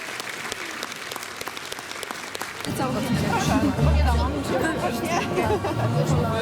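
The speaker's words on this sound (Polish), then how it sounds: "Jeszcze raz gorące brawa." An audience at a Women's Day event in Oleszyce breaks into warm applause partway through, dense and loud after a quieter stretch of murmuring and scattered claps.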